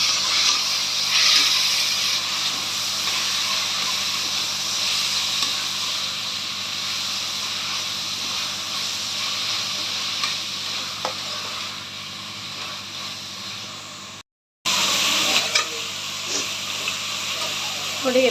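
Garlic and tomato fry in a pan, a steady close sizzle and hiss with occasional stirring scrapes, broken by a brief moment of silence before the frying resumes.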